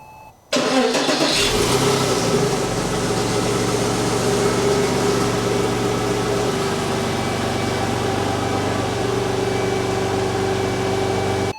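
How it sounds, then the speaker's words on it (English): Porsche Boxster 986 engine cranks and catches, then settles into a steady, loud idle with a constant low hum and no talking. "we're going to start the car up."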